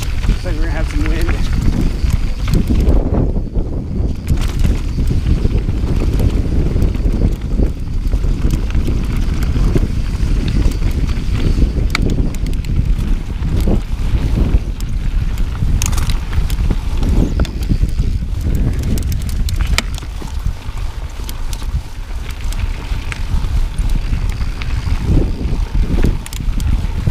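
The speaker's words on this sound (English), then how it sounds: "Looks like we're gonna have some wind." Gusting wind buffets the microphone continuously during mountain biking in Moab, Utah, a loud low rumbling roar with brief fluctuations and some rattling underneath.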